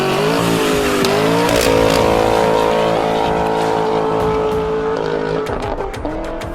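A 2019 Dodge Challenger with a custom exhaust system and Carven mufflers revs loudly and close, the engine note climbing and falling in sustained roaring pulls with a deep rumbling tone.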